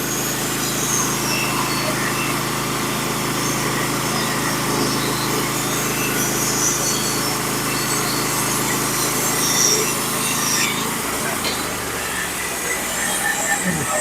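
Norwood HD3 sawmill engine running steadily while the mill cuts a big pitch pine log into 1x12 roof sheathing boards. The engine drone is loud and constant, then drops away near the end as it is throttled down.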